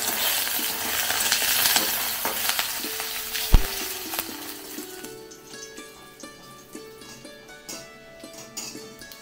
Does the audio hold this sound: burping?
no